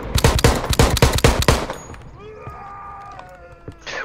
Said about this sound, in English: Reload and keep shooting.